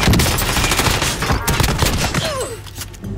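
Rapid, loud shotgun blasts and a burst of gunfire ring out in Call of Duty: Modern Warfare, packed close together across a few seconds with game effects trailing behind.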